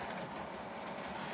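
A model train runs around a layout track, giving a steady, continuous rail rumble with a soft clickety texture that stays even and close throughout, with no voices.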